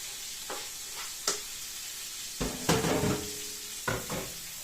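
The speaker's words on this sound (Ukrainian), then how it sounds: "І підсмажую її, підрумяню." Onion fries in a pan with oil, a soft steady sizzle broken by several sharp clinks and scrapes of a utensil stirring against the pan, close and fairly quiet.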